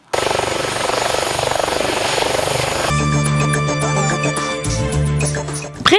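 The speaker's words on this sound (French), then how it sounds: "par un hélicoptère privé dans lequel il avait atterri au Palais de la Nation" A private helicopter heard close up, its loud steady rotor and engine drone running the whole time. The sound shifts partway through to a more tonal whine with a steady hum. No one speaks.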